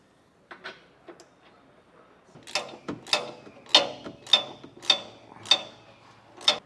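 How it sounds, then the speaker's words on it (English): Ratchet snugging down bolts on a Curt trailer hitch receiver fitted to a 2025 Mazda CX-30, a few quiet clicks, then a run of crisp, loud ratcheting bursts in a steady rhythm, close by with no talking. "Now we'll come back through and we'll snug down all of our hardware."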